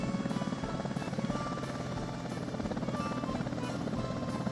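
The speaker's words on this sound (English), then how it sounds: "I'm going to build helicopters and we're going to sell helicopters. And it's going to be the MI8." Mi-8 helicopter in Workers & Resources: Soviet Republic, a steady close rotor thump with a pulsing, even beat and a continuous engine drone, with no voices over it.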